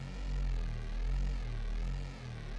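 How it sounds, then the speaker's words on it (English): A Serum Reese bass drones continuously, a dense, detuned low growl with a slow wobbling phasing throughout, steady and loud with no voices over it. "It's a nice Reese."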